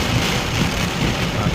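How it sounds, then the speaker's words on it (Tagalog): Heavy rain pouring down during a flood in Steinbach, Manitoba, a dense, continuous hiss with gusty low rumbling, loud and close with no voices. "Sobrang lakas kasi ng ulan guys."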